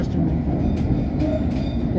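A London Underground Metropolitan Line S8 Stock train runs between Wembley Park and Preston Road, giving a steady, loud low rumble with faint rail noise throughout, and a voice can be heard talking over it.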